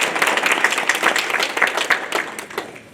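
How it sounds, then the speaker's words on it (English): An audience applauding a panel of women at a community forum, dense steady clapping throughout that tapers slightly toward the end. "Give them a round of applause as we get started."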